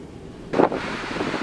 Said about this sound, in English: The wind, it hasn't really let up much.